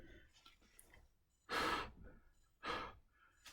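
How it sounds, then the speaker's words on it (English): Breathing through a respirator mask fitted with a rubber-tab exhalation valve, two strong breathy exhales about a second apart, close and clear, with faint quieter breaths between. "So when I breathe, to make it easier for me to breathe,"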